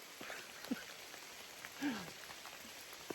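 Steady rain patters on the Appalachian Trail, a soft continuous hiss of drops with a couple of brief low knocks, faint and alone with no voices.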